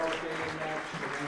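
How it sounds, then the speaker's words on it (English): A squash crowd at the Detroit Athletic Club gives a standing ovation after a championship final, with steady, close applause running throughout and a voice speaking over it. "A standing ovation here from the crowd in the Detroit Athletic Club for both players."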